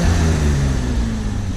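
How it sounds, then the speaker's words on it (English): 1989 BMW 325iC convertible engine giving a short throttle blip, a smooth, steady mid-low exhaust hum that stays fairly even and close, not very loud, with no talk over it. "Give you a little exhaust here, or a little blip here for an exhaust note."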